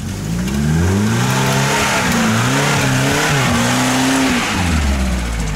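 A car on narrow, untreated tractor tires revs hard, its engine loud and close, the pitch rising and falling across several throttle pulls over a broad roar of tire and exhaust noise.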